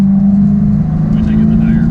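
A 2001 Mustang Cobra accelerating on a two-lane country road, its engine a steady, loud, low drone heard from inside the car, pulling hard at low revs.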